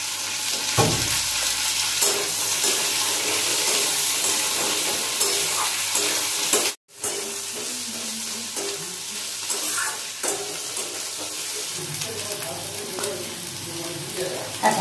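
Long strips of pointed gourd and potato fry in hot oil in a pan, a dense, steady sizzle with stirring scrapes throughout, broken by one brief cut of silence midway.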